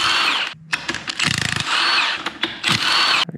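A power tool whirs in loud bursts while pulling the bolts from a GM 10 bolt rear axle, with short pauses and rattling clicks between the runs.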